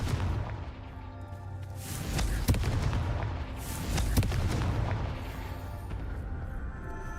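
Confringo spell blasts in a Hogwarts video game, a rumbling run of booming explosions with two sharp cracks standing out, loud and continuous under a low roar, with no speech.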